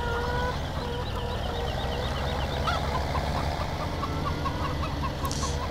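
Chickens cluck in a steady stream on a Farming Simulator 17 farm with a continuous engine-like hum underneath.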